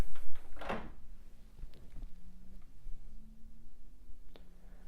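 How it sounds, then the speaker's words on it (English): A door fitted with a smart-home contact sensor opens with a single sharp click and thud near the start, followed by faint rattles and a soft tick in an otherwise quiet room. "if I open the door"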